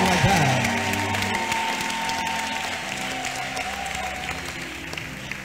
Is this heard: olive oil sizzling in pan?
no